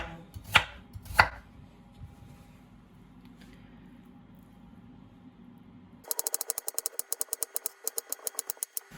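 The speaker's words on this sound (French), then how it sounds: "Donc je vais couper en biseaux. Des rondelles très fines." A knife slices vegetables into very thin bias-cut rounds on a cutting board while making kimbap, first a couple of isolated sharp chops, then a fast, even run of crisp, close cuts.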